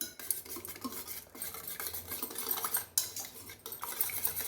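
Raw onion and salt stirred with a spoon in a bowl for a banana curd curry, light irregular clinks and scrapes of metal against the dish, close and fairly quiet, no voices.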